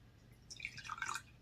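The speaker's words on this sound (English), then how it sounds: "this is our Cabernet Sauvignon. I'm going to pour myself a little bit." Cabernet Sauvignon wine poured into a glass during a tasting, a short quiet burst of liquid trickling and splashing lasting under a second, with no talking.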